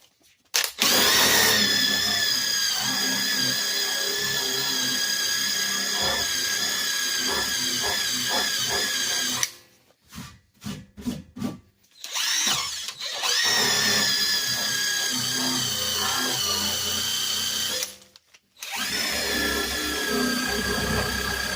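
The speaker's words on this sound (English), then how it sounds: "So now I'm going to take my eraser wheel, and we're going to get this little strip of double-sided tape off." An eraser wheel on a power tool strips a narrow band of double-sided tape from a car body with a loud, high, steady whine. The whine runs for long stretches, cutting out briefly around the middle and again later before resuming.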